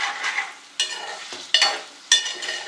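Chicken liver fry being stirred in a pan, with a few distinct scraping strokes of the spoon over a soft, steady sizzle, close up and with no talking.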